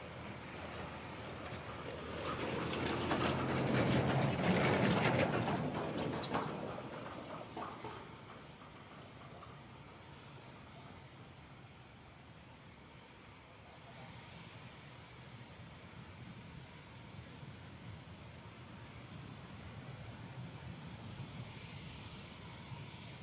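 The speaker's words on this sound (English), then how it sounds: "And we are clear for takeoff" A military jet takes off at the Farnborough airshow, its engine roar swelling loud in the first seconds and then fading into a distant wind-blown drone.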